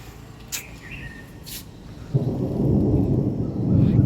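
Thunder rolls during a lightning storm in Kota, Rajasthan, a low rumble swelling into a sustained loud roar with rain hiss, preceded by a couple of faint bird chirps.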